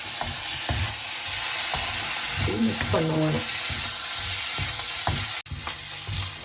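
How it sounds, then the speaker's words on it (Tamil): Goat intestine sizzles and fries with onions in a pan while being stirred and mixed. A steady loud sizzle runs throughout, with scraping stir strokes on top, close up, and a brief voice partway through. "வெங்காயத்தை அதை போட்டு இப்போ நல்லா மிக்ஸ் பண்ணுவோம்."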